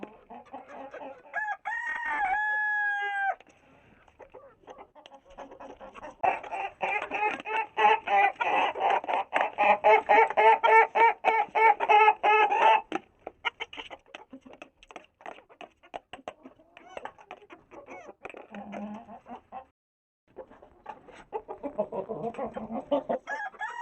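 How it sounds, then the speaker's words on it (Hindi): A red rooster crows once early on, then hens cluck in rapid bursts alongside a brown hen. The clucking comes in several close, busy stretches separated by short pauses. "ये हमारा लाल मुर्गा इसके लिए।"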